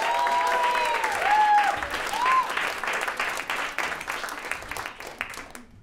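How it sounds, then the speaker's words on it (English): A crowd applauds steadily for several seconds, a dense wash of clapping that thins slightly before cutting off. "A huge round of applause for Cody Pomeranz, ladies and gentlemen."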